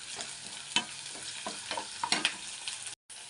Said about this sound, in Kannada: ಇವಾಗ ನಾನು ಇದಕ್ಕೆ ಹಸಿಮೆಣಸಿನ್ಕಾಯಿ ಹಾಕ್ತಾಯಿದ್ದೀನಿ, ಆಮೇಲೆ ಈರುಳ್ಳಿ ಹಾಕ್ತಾಯಿದ್ದೀನಿ. ಇದು ಚೆನ್ನಾಗಿ ಫ್ರೈ ಆಗಬೇಕು.